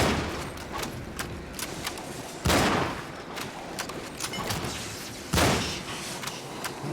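Rapid gunfire from a haunted ship video game, bursts of sharp shots spread throughout with two heavier, louder blasts standing out, all close and without talk over them.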